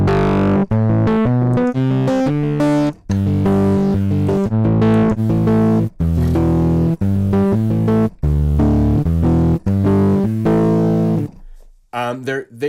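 The simple distortion preset of the Trash audio plugin drives a melodic synth or instrument line into gritty, saturated tones, playing loud, clipped phrases in choppy bursts with brief gaps before fading to near silence at the end.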